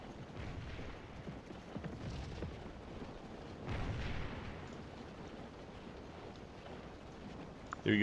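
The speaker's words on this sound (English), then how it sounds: "Keep the cannons busy firing away." Civil War black powder cannons firing in the Scourge of War battle game, a continuous low rumbling din of distant artillery with one heavier swell midway and a sharp burst at the end.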